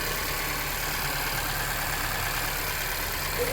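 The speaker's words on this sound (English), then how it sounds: "Still cold, so I'm warming the engine up." A cold car engine with cam and crank out of phase idles steadily while warming up, with a constant low hum and even mid-range drone, nothing else breaking through.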